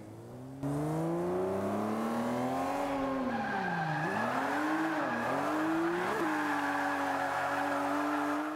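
A drifting car in Forza 5, engine howling in sweeping rising and falling pitch with tire squeal and skidding layered on top, loud, close and continuous after a brief quiet opening.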